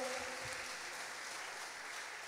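A church congregation applauding after a sermon on entering God's rest, a sustained even roar of clapping with a brief voice at the start.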